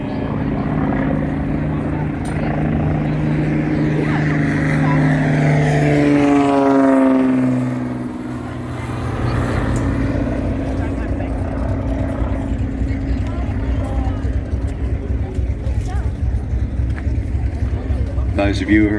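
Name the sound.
Grumman Avenger torpedo bomber aircraft engine starting up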